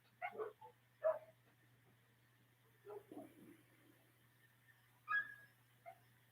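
Dogs bark during a paranormal investigation in central Alabama. Several short clusters of barks and yips come at a moderate distance, separated by quiet gaps, over a low steady hum.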